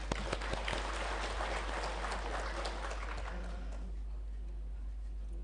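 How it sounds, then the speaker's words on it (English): Conference audience applause at a national conference and anniversary celebration in a hall, with a burst of clapping that fades away toward the end and then leaves a quiet room. "Let us give a big round of applause for your presence."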